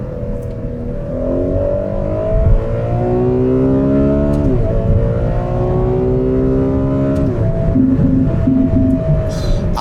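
A Ferrari 12Cilindri with a 6.5-litre V12 pulls hard, its loud, steady engine note rising in pitch through several gears, each upshift marked by a brief drop before climbing again, heard from inside on a drive in Luxembourg.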